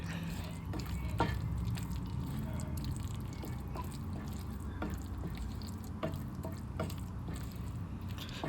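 A spoon works through creamy stovetop mac and cheese in a pan, soft wet squelches and occasional sharp clicks against the pan over a steady low hiss, quiet and close.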